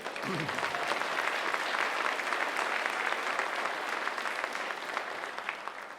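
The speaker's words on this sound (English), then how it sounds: "You can applaud if you wish. I'd be delighted if you did." Audience applause in a college gymnasium at a celebration event, a broad steady patter of clapping heard at a distance, fairly quiet and sustained for six seconds with a brief voice at the start.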